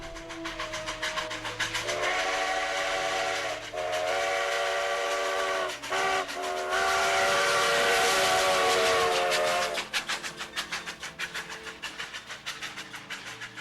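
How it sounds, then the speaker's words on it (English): Sierra Railway No. 28, a steam locomotive, sounds its whistle in a long, loud, sustained chord broken by brief gaps, over a background hiss and rumble of rail equipment. "the Polar Express's whistle in the movie actually came from Sierra Railway number 28."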